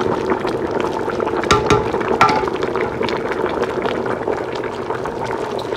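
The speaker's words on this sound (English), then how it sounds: "Let me just wet the soup to cook a bit, because I just added water." Bitter leaf soup (ofe onugbu) with red oil, pepper, ogiri and crayfish cooks in a pot after fresh water is added, giving a steady close bubbling and simmering texture with a few sharper clinks partway through, and no talking.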